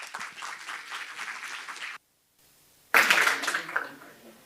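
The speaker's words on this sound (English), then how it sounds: "Let's welcome them with a big round of applause." Applause from a conference audience greeting speakers at a tech talk: a burst of clapping, a brief drop to near silence, then a louder second wave of clapping that gradually thins out.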